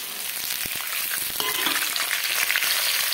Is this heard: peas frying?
yes